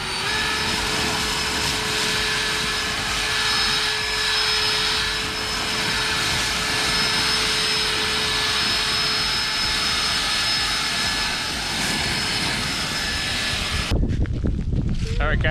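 EGO Power+ 600 CFM battery backpack leaf blower running on turbo, a loud steady close roar with a high whine holding for about fourteen seconds before cutting off abruptly, with brief rustling afterward.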